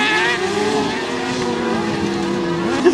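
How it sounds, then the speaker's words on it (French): Racing kart number 18 passing close by during a qualifying session, a loud, steady engine whine with a faint fall in pitch as it goes by, with no voices over it. "Samuel Potter qui vient de passer devant vous avec le carte numéro 18."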